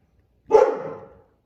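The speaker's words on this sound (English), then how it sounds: "when anybody comes to my door, they listen to this dog" A single loud, close dog bark, one sharp woof that tails off quickly in a quiet room.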